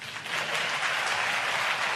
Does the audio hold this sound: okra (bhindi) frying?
no